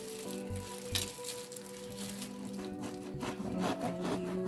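Meat and onions for Philly cheesesteaks fry steadily in a pan, a low continuous sizzle with faint clinks and knocks of kitchen work scattered through it and no talking.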